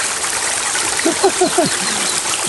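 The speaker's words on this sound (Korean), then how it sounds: "물이 졸졸졸 흐르고" Meltwater from icicles trickles and babbles along a stream on Geumosan mountain in summer. The flow is loud and continuous, with a few brief gurgling notes in the middle.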